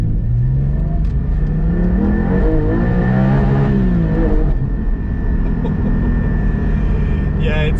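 A Porsche 718 Cayman GT4 is heard from inside on a wet, cold drive, its engine climbing through revs in rising sweeps and dropping back, with someone talking over the steady road and cabin noise.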